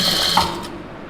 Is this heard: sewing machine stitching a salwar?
yes